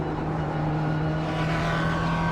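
A McLaren MP4-12C GT3 race car lapping Circuit de Spa, its engine holding a loud, steady high-pitched drone heard from on board, with no talking.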